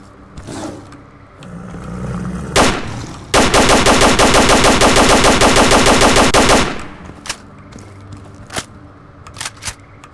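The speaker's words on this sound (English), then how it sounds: "just shooting them with an AK." AK rifle gunfire in STALKER Call of Pripyat with the AO mod: a few sharp single shots, then a loud, close sustained automatic burst of several seconds, followed by scattered lighter shots.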